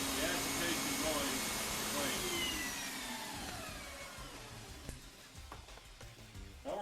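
A central vacuum cleaner runs steadily with a loud, broad whooshing roar and a whining tone that gradually eases, with a few small clicks and bumps toward the end; no speech.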